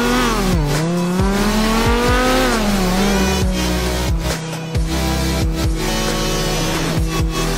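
A modded car engine sound pack in a video game, with a loud, sustained engine drone whose pitch dips and climbs as the car shifts and revs, broken by brief gear-change gaps.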